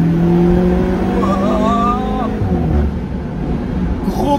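Alfa Romeo 4C engine blipping and rising in revs on a downshift into second gear near 4000 rpm, loud and close from inside the car, with a fairly steady roar that dips near the end.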